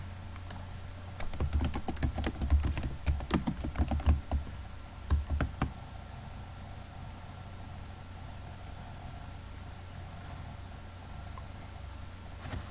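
Someone types on a computer keyboard while working in ArcMap, a quick run of close key clicks for a few seconds that then stops, leaving a quiet steady background hum.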